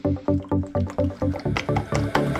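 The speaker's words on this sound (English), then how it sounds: "We got some muddy water." Muddy water sloshes in a gold pan in rhythmic swirls, about ten regular wet swooshes in a row, close and loud with no talking.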